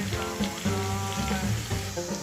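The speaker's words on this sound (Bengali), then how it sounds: "রসুনটা ভাজা হয়ে গেছে।" Crushed garlic frying in hot oil in a pan for an egg chicken tadka, a steady close crackling sizzle with popping bursts throughout.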